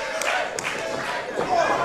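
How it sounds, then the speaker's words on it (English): A wrestling crowd at a student showcase makes a steady roar with a few sharp claps in a short burst, holding an even, moderate level of noise. "Crowd showing their support here for Dylan Lesson"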